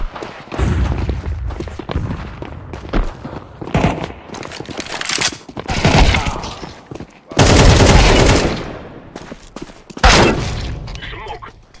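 A flashbang grenade detonates in Counter-Strike 2 amid several loud bursts of gunfire and sharp bangs, with a player talking between the shots.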